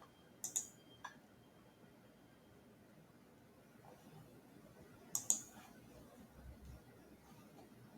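A few crisp computer mouse clicks sound near and faint against a quiet room: a close pair early, a single click a moment later, and another pair after a long pause.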